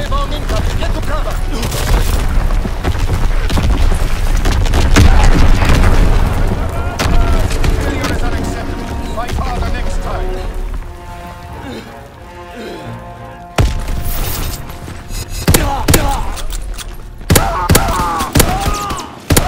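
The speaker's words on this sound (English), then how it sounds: "Incoming enemy artillery. Get to cover. Enemy bomb incoming." Artillery and bomb explosions in Call of Duty WW2, with heavy booms and rumbling blasts over dense gunfire, loud and close, then a sharp impact followed by scattered shots and thuds.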